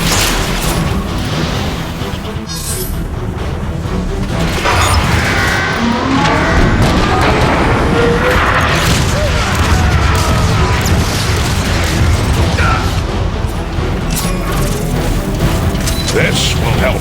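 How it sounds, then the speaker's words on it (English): Artillery strike explosions land in the Transformers: Fall of Cybertron game as repeated loud booms and rumbling blasts over constant mechanical battle noise, with voices talking throughout. "Optimus, how about calling in an artillery strike?"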